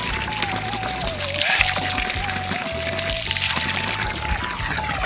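Water pours steadily from a village tap beside a tank, a continuous splashing trickle heard up close with faint voices in the background.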